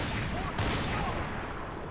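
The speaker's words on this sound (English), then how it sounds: "Man, the gun sound is rough." Gunfire in the video game Max Payne 3: a rough, rapid volley of shots over a dense noisy backdrop, with one sharp, louder burst near the middle before the firing settles into a steady rattle.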